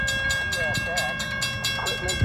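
A freight train rolls through a railroad crossing in wet weather, a steady rumble with rhythmic wheel clatter and a metallic squeal, close by, with someone talking over it.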